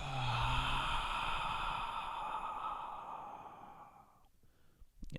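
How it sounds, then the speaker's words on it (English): A long, loud exhale pushed out through the mouth after a deep breath in, during a standing half moon yoga sequence. It is one continuous breathy sigh of about four seconds, close to the microphone, fading out near the end. "take a deep inhale breath through the nose. Hold at the top. And audible exhale out the mouth."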